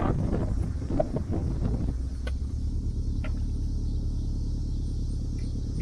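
A Subaru Impreza WRX drives off on a test run after a brake booster and fluid job, with a low steady engine and road rumble from inside the car and some wind buffeting, no speech.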